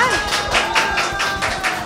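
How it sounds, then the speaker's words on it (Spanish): Studio audience clapping in a Spanish-language TV variety show as a guest representative walks on stage, a lively patter of hands with rhythmic bursts, loud and close. "vamos a dar la bienvenida por aquí, que se acerquen las palmas para ella"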